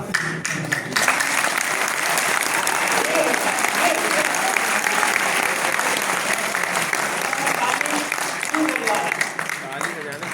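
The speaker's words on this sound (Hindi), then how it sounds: "ताली ऐसे बजा रहे हो जैसे लग रहा है ताली बजाने नहीं जानते हो" A hall audience at a motivational speech in a Lucknow hotel breaks into sustained, dense applause, loud and steady for about ten seconds after a brief voice at the start.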